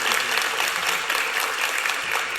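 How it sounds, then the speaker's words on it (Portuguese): Steady, dense applause fills the room at a Brazilian acoustic guitar concert, continuous and fairly loud throughout, with no voices heard. "para quem eu peço mais uma salva de palmas."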